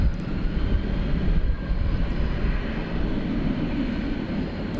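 Two American Airlines Boeing 777 wide-body jets taxi at DFW Airport at night, their engines making a steady, continuous low rumble and whine at a moderate distance.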